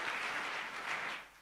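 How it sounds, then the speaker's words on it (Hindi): An audience at a spiritual gathering in Mount Abu claps to welcome a speaker, a brief, dense and fairly soft burst that fades out after about a second. "हम जोरदार ताली से स्वागत करेंगे"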